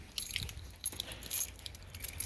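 Car keys for a 2002 Honda CR-V jangle and clink in short metallic bursts, close by, with no talking.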